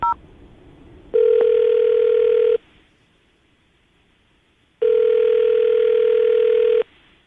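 Two long, steady telephone ringback tones sound while a call is being placed, each lasting about two seconds with a quiet gap between them.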